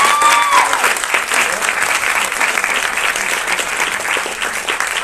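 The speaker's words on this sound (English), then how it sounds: "Let's give another round of applause." An audience claps after a dance performance at a cultural event, with dense, sustained applause filling the hall at steady loudness throughout, without speech over it.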